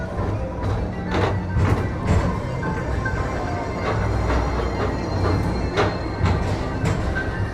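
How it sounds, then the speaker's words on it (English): A theme park express train rolls steadily along its track at Magic Kingdom at night, giving a continuous rumble with repeated rhythmic clacks of the wheels, close and fairly loud. "Don't worry, your express train keeps on rolling through the future, right by two of my favorite spots."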